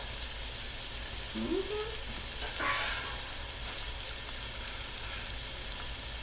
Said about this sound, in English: we're just going to get that in the skillet and start sauteing it